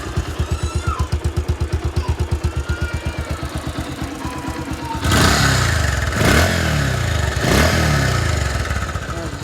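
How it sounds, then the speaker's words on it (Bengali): A 2019 Bajaj Pulsar 150cc twin-disc motorcycle idles nearby with a steady, even thumping beat. Partway through, the engine swells louder and rougher in a few revving surges over the idle. "এখন স্টার্ট করা হলো। Sound smooth"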